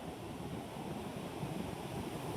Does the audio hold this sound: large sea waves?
yes